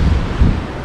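Wind and surging waves on Lake Malawi, a steady broadband rush with low rumbling swells, loud and close in open air, no voices.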